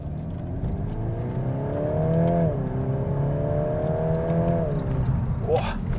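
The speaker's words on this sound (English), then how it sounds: "Okay, back onto what this car wants to do, which is drive in a spirited fashion." Volkswagen Golf R Estate driven hard on the road, its engine note climbing through a gear, dipping at a shift, then pulling steadily again from inside the cabin before a brief faint whine near the end.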